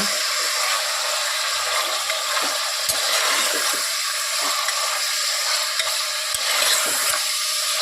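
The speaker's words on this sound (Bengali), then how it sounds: "চিকেনটা দেওয়ার পর এবার এটা তেলের মধ্যে একটুখানি নাড়াচাড়া করে নেব।" Chicken pieces are stirred through hot oil and spices for biryani. A constant sizzle runs under scattered scraping and knocking from the stirring utensil, all fairly close.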